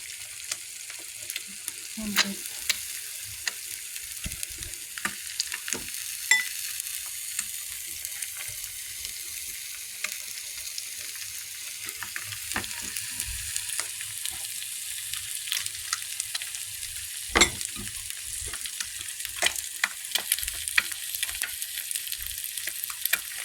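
Egg omelette with onion and tomato frying in a pan, giving a steady close sizzle with scattered crackles and pops, occasional clinks and faint water trickle in the background, no talking.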